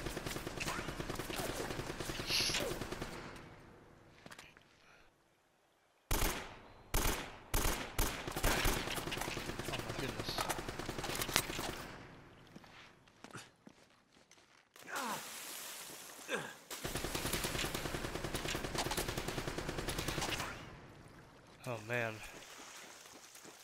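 Gunfire in Uncharted: Drake's Fortune comes in bursts of sharp shots and rattling volleys separated by quieter gaps, with someone talking over parts of it.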